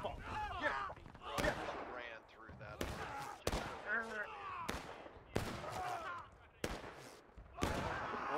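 Gunfire in the Civil War era video game War of Rights, a series of sharp musket cracks spaced irregularly across the clip, with voices shouting between and under the shots.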